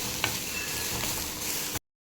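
Washed shrimp fry in a pan with Byadgi chillies, giving a loud, close, steady sizzle and a brief stirring scrape before the sound cuts off abruptly.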